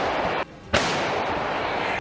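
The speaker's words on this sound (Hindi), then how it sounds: "रूस के सैनिकों ने दुश्मन के ठिकाने पर एक के बाद एक कई जोरदार धमाके किए।" Russian artillery shelling on an enemy position, with loud blasts in a barrage: a sharp broadband explosion lands after a brief lull, over a dense, continuous roar of fire and rumble.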